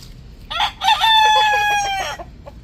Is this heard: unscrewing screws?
no